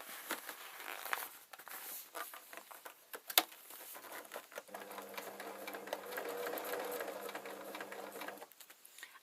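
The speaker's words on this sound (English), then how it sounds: "I'm just going to sew through there, and then again with the needle down" Sewing machine stitching through an oilskin (PVC) tote bag, with irregular handling noises and brief stops early on, then a steady, close mechanical whirr of needle strokes running for several seconds.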